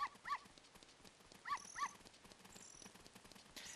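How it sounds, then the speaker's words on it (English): Dogs in The Legend of Zelda: Ocarina of Time at night give short pairs of yelping barks, repeating twice and then fading, amid a quiet, faint game background. "at night you've got all these dogs running around the place"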